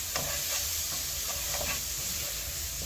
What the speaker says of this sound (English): mix them together, and then I'm going to cover, let the spices cook and reduce the heat